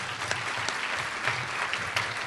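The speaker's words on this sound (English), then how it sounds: "so let's give her a round of applause." An audience at a forum on Wisconsin's accreditation journey gives a steady round of applause, dense clapping filling the room at an even level throughout.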